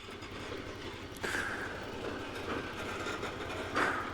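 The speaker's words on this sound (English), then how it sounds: "I got to show you a sugar train actually moving" A sugarcane train loaded with cut cane rolls past at moderate distance, its wagons rumbling steadily with faint clacking and occasional metallic squeals over the tracks.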